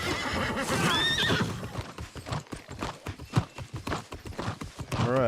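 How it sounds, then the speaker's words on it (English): A horse in the video game New World whinnies loudly at the start, then its hooves clip-clop in a quick, steady rhythm, ending with another short neigh. "Oh, wait. I forgot I have my horse."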